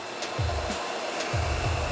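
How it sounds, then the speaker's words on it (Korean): A hair dryer blows steadily while a man's long hair is styled around a round brush, a loud continuous whoosh with soft repeated brushing strokes beneath it and no voices. "드라이기는 항상 롤 있는 부분에 위치하게끔 신경 쓰면"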